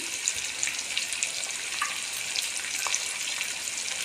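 Spices and greens roasting in a pan for sohajna gosht, a steady bright sizzle with light crackles running throughout, close and fairly even in level, with no talk.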